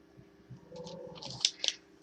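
Scissors cut a sheet of paper card in half with a few crisp snips that build in loudness. Close, rustling handling of the card comes between the cuts, and a couple of sharp clicks mark the end.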